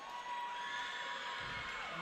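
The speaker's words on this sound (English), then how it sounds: "Coming into the game, getting a nice round of applause." Crowd at a high school basketball game between the Carterville Lions and Du Quoin Indians cheers and applauds a player entering the game, a steady broad roar of noise with shouts over it, loud and continuous throughout.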